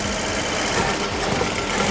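An Audi engine, one of the rarest in the UK and newly restored, runs at a rough, flat, metallic-sounding idle, loud and steady throughout with no talk over it.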